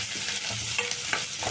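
Chopped onions fry and are stirred in a pan, giving a steady sizzle with scraping strokes of the spoon in a short close burst, no talking.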